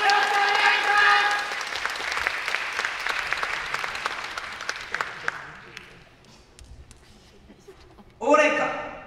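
Yosakoi festival audience clapping along in rhythm, dense applause that fades over several seconds, then a burst of sound near the end, with voices present.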